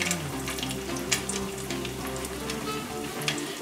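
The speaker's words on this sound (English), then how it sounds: "Now you're gonna form your patties and fry them in your oil." Salmon croquette patties fry in hot oil in a skillet, a dense steady sizzle with scattered crackles and pops, close and continuous with no talking over it.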